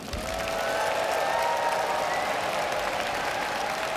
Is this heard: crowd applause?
yes